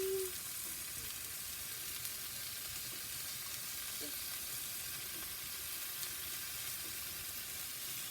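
Philly sandwich meat searing on a soapstone grill on a Big Joe, a steady, even sizzle and crackle of fat held at a constant moderate level for the whole stretch, with no talking.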